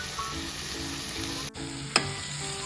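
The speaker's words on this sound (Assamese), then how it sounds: "এইখিনি পূৰা ভাজি ল'ম" Paneer masala paste with coriander frying in a pan, a steady close sizzle with a brief break and a sharp stir or scrape near the middle.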